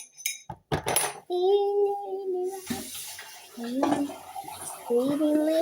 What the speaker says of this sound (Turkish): O bardağın için çalkalar mısın? Çalkalayayım.